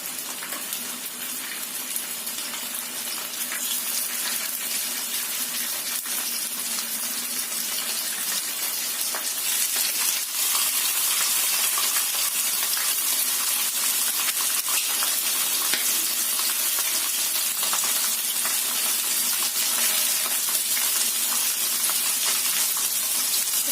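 Steady, continuous sizzling and crackling of milkfish frying in a little hot oil, close by and even throughout, with no talking.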